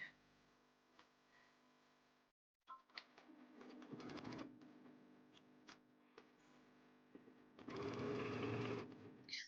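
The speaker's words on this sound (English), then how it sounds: "we're going to start sewing a 1/2-inch seam all the way around" A sewing machine runs in short bursts while stitching a half-inch seam around fabric for scrunchies, its rapid needle whir close and steady, with pauses, a brief silence and a louder final run.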